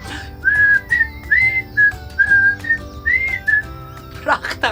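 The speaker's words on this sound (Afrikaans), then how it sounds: "Sit jou mondjie in 'n ronde vorm en fluit." A person whistles a short tune of sustained clear notes, several phrases in a row at moderate loudness, with faint voices and a brief burst of sound near the end.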